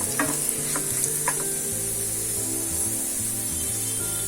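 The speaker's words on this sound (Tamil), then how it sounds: "இன்னும் கொஞ்சம் நேரம் சிம்ல வச்சு வறுக்கணும்" Pirandai, adamant creeper, roasting in a pan on low heat while being stirred: a few scraping strokes against the pan early on over a constant soft sizzle, with no talking.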